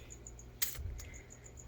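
Small feeder crickets hidden inside tarantula enclosures chirp faintly in a quiet room, a thin, evenly spaced high pulse repeating in the background, broken by one short sharp click.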